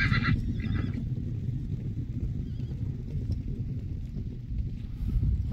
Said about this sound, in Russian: Что-то лошади от квадрика отвыкли, шугаются немножко